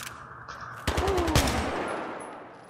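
Gunfire in the video game Battlefield 3, a sharp burst of several rapid shots with a loud crack around the middle, followed by a decaying echo and no talking.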